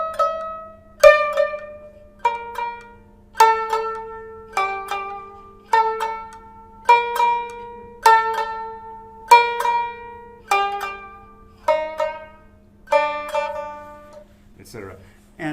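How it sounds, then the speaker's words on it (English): Koto played alone without shakuhachi, about a dozen plucked notes in an even, slow rhythm, each ringing and decaying, close and clear over a faint steady hum, ending in a short flurry. "So I'm going to have Yoko play that same part without the shakuhachi"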